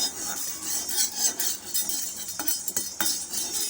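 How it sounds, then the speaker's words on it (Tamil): Black pepper dry roasting in a pan with steady stirring, giving a continuous close scraping and rasping with small clinks of a utensil against the metal. "அதே கடாயிலேயே நம்ம எடுத்து வச்ச மிளகை உள்ளே சேர்த்துட்டு வறுத்துக்கலாம்"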